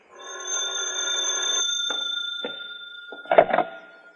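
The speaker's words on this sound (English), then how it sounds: "that's when the phone rang." An old-fashioned telephone bell rings in a radio drama, one long ring followed by shorter broken bursts and a clatter near the end, loud and close with no talk over it.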